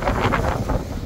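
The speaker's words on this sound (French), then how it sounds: "Toujours autant de vagues, toujours autant de vent, c'est absolument énorme." Strong east wind roars across the open coast at Cap Couronne, Martigues, during storm Jana, with a steady, loud broadband rush of gusts and likely crashing waves beneath, buffeting the microphone throughout.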